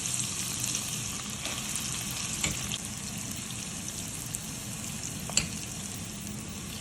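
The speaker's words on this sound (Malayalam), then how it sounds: "നമ്മൾ ഈ ഫ്രൈ ചെയ്ത ആ എണ്ണയിലേക്ക് തന്നെ നമുക്ക് സവാള ഇട്ട് കൊടുക്കാം." Sliced onions sauté in oil left over from frying chicken sausages, giving a steady, even sizzle throughout with a few faint clicks from the pan; no one talks.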